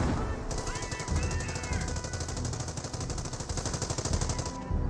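A .30 cal machine gun rattles in long, steady automatic bursts during a Company of Heroes battle, loud and continuous for nearly the whole stretch, with faint battlefield noise and a voice mixed underneath.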